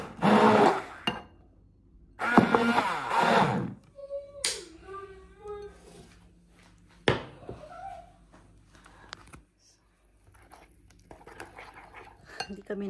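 A spoon clinks and scrapes against a bowl while pancake batter with oats and chia seeds is stirred, in loud bursts of rattling between quieter pauses, with a voice and brief talk heard in the background.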